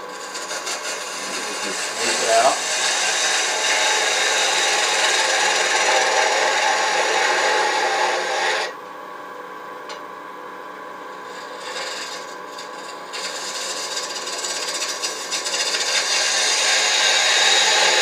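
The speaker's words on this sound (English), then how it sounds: "what works for me is just using the spindle gouge once you get right on center" A continuous scraping, rasping hiss of a gouge cutting spinning wood on a lathe, dropping out briefly midway before resuming.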